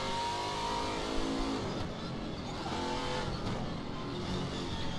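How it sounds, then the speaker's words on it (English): A race car engine in the RaceRoom Racing Experience video game drones and revs steadily, heard from inside the car, loud and continuous with shifting pitch. "It sounds just like an actual race car when they have like an internal camera"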